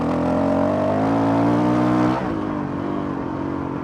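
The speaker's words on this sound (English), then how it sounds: "it lugs third gear, just lugging around in third gear" Engine of a Honda CRF 450 RL motorcycle lugging along in third gear, a steady low throbbing drone that holds, then drops slightly in pitch and loudness as the throttle eases.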